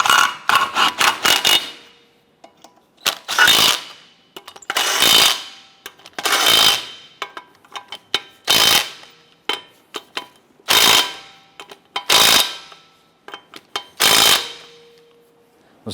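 Pneumatic impact gun rattles lug nuts tight on a Nissan Versa wheel, loud and close, in about a dozen short hammering bursts separated by brief pauses, with no voices.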